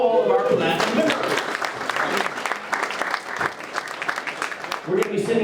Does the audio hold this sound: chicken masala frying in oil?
no